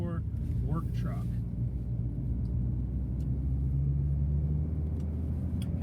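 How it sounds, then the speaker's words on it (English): Steady low engine and road rumble from a 2015 Chevy Colorado 4x4 work truck with 191,000 miles while driving, a constant drone with a voice talking briefly near the start. "we're driving this 2015 Chevy Colorado 4x4 work truck"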